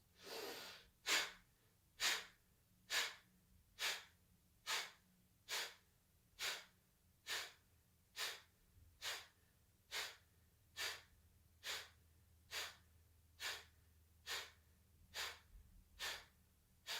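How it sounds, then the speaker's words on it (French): Kapalabhati-style yoga kriya breathing: about nineteen short, sharp, forceful nasal exhalations at a steady rhythm of roughly one per second, close and alone in a quiet room. "Et on va faire le même kriya avec les coudes qui vont se lever à l'inspiration et qui vont revenir d'un coup bref à l'expiration."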